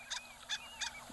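A played recording of a Harlequin duck calling gives three short, squeaky, nasal notes in quick succession, faint and thin over a steady low hum.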